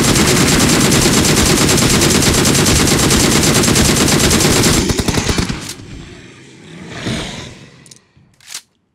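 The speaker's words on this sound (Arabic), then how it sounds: "ده الام جي 3 سلاح قوي ده" An MG3 machine gun fires in a shooter video game, a loud sustained automatic burst for about five seconds, followed by a few scattered distant shots and clatter as the fire dies away.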